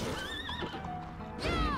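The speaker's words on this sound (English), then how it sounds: "Water horse." A water horse enemy in the Bloodstained: Ritual of the Night video game lets out a shrill, wavering neigh, then a second whinny follows after a brief pause over game background sound.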